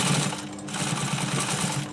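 A sewing machine stitches a fabric arm cover for a chair, running close and loud in a steady rapid mechanical chatter with one brief pause.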